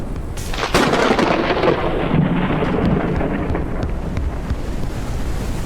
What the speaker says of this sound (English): it's like full on raining here